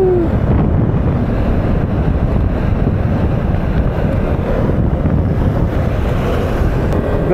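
Strong wind buffets the microphone in a constant loud roar for the whole stretch, outdoors near a river and bridges, with no voices.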